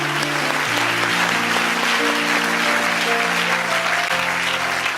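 Church congregation applauding during a worship service, steady sustained clapping filling the whole stretch with sustained instrumental tones underneath.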